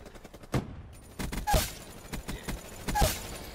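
Gunfire in the online shooter Black Ops 3 arrives as several sharp bursts and single shots spaced across a few seconds, moderately loud with mechanical clicks between them.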